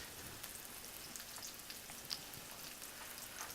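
Steady, quiet sizzling and crackling of chicken frying in a pan, with occasional soft pops throughout.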